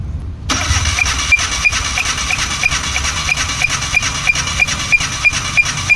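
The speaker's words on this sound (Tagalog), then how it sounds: "Cylinder number 2, engine crank, fire." A Suzuki K6A turbo engine in a DA64W, misfiring badly, cranks over on the starter for a compression test, giving an even, rapid rhythmic chugging close up after a brief silence.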